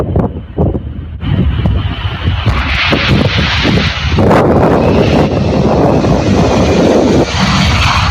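A fixed-wing aircraft taking off from runway 28, its engine swelling into a loud, sustained roar that grows stronger partway through, with gusty wind buffeting the microphone and no voices.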